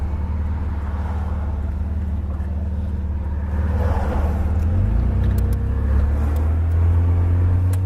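Car driving slowly through a residential neighborhood, a steady low rumble of engine and road noise that builds a little partway through, heard from inside with no talking.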